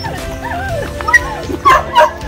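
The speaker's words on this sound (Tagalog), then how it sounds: "Nagagalak po yung aso ay." A dog on a rocky mountain trail near Iriga whimpers and gives short yips in a few close bursts, with people talking over it.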